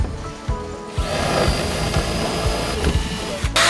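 A Bosch 18V combi drill runs in a builders' warehouse, its loud steady motor whine sounding with a few clicks and knocks of handling, then cutting out near the end.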